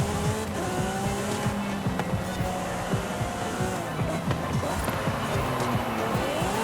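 Lamborghini SC20 racing in Forza Horizon 5, a loud, continuous engine roar with rising and falling revs as gears shift, and tire squeal in the corners.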